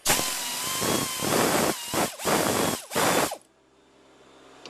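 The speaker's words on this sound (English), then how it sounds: "so I got my 7mm socket on" Ratchet with a 7mm socket cranking in several quick bursts of clicking during a battery change on a 2008 Pontiac Solstice GXP, loud and close, then stopping.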